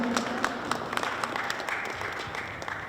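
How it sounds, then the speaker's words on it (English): Audience clapping at a Newark executive business accelerator event as a company CEO is called up to speak; moderate, scattered applause with distinct individual claps, tapering slightly toward the end. "Round of applause."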